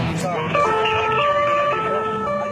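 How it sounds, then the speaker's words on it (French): A police car siren wails steadily at close range during a high-speed chase through Paris, its tones stepping up and down in pitch over the road noise of the moving vehicle. "Toute sirène hurlante, le policier fonce à toute allure"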